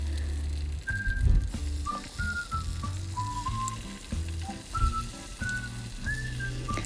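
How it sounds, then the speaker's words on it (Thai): A sunny-side-up egg frying in a pan makes a steady, close hiss and crackle of hot oil with brief swells, and faint whistle-like tones drift above it. "เราก็มาทอดไข่ดาวรอกันก่อนนะคะ"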